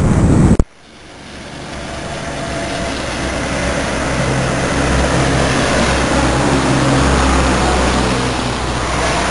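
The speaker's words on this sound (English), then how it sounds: "you have these cars going by" Cars pass on a wet road in light rain, a steady broad hiss of tyres on wet pavement that swells and lingers after a sharp opening knock, with no one talking.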